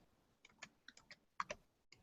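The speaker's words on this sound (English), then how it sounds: "I'm typing it in to see if I can find anything." Faint, sparse clicks of typing on a computer keyboard, a handful of irregular keystrokes spread over two seconds, with no talk over them.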